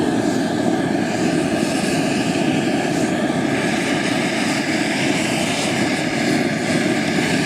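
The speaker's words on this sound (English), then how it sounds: "I think it's well and truly warmed up now, so it's not. That's on full whack now." A cheap multi-fuel stove burns on gas at full output, giving a loud, steady roaring rush with no letup, broad and constant like a big burner flame, with no voices.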